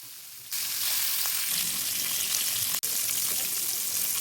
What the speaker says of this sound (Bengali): গরম হবার পর মাছগুলোকে এরপর এক এক করে তেলের মধ্যে ছেড়ে দিতে হবে।